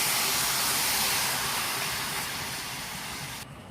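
Chicken hitting a hot pan with onion and ginger, a loud, steady sizzle and hiss that fades slightly before cutting off abruptly near the end.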